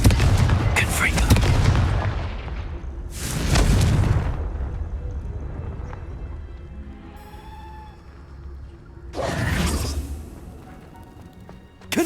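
Confringo blasting spells explode in the Hogwarts Legacy video game, three loud booming bursts spread apart, with quieter game ambience and soft chiming tones in the gaps between them.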